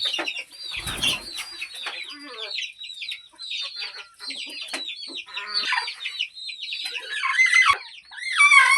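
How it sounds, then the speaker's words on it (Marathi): Free-range desi chickens, chicks, hens and roosters near a simple farm shed keep up constant overlapping clucks and squawks, loud and close, with a soft thump early on. "छोटे पिल्ले पण आहेत मोठे कोंबडे पण आहेत पठड्या पण आहेत"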